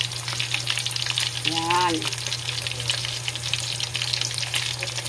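Food frying in a pan at home, a steady close crackling sizzle throughout, with a brief spoken word over it.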